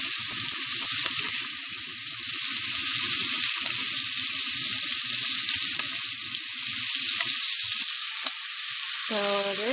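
Shrimp fry in hot oil with a steady, bright sizzle close up, broken by faint low clinks and stirring sounds, with no talking.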